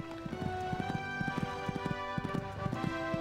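Video game horse hooves clip-clop at a canter in a rhythmic run before a fence jump, loud and close over a steady musical bed.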